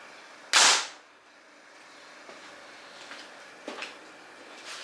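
A compound bow looses an arrow on a trigger release, one sharp loud snap with a quick decaying twang, followed by quiet room tone and a few faint clicks.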